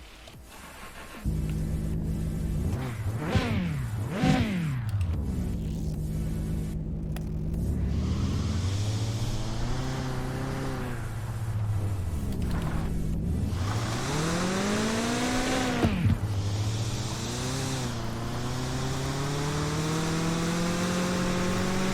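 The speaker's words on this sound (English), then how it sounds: "I don't like that turbo hissing noise." A car engine in the video game Mon Bazou revs up and down repeatedly, its pitch sweeping high and low, with a turbo's airy hiss over the rising and falling engine.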